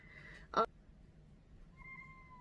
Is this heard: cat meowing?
yes